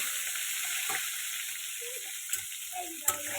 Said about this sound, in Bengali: ডিমটা একটু ভেজে নেবো